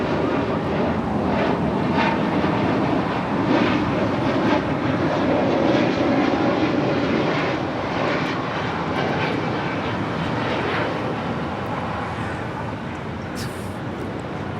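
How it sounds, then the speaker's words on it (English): A Spirit Airlines Airbus A320neo jet departs Los Angeles International Airport with a loud, steady broadband engine roar that holds constant throughout, close and dominant. "This is Spirit Airlines 184 departing to Cleveland, Ohio on an A320 Neo"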